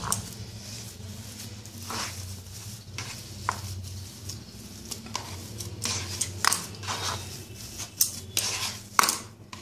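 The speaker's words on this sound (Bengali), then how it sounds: "ভালো করে মাখাতে হবে যাতে গোটা আলু একদমই না থাকে" Boiled potatoes being mashed and mixed with salt by hand in a bowl for potato chop: soft squishy kneading and stirring with occasional sharper clicks against the bowl, close and fairly quiet, speeding up toward the end.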